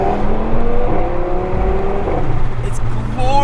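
An Audi TT RS engine with 294 kW revs and accelerates loudly, its pitch climbing steadily, heard from close by with no talking.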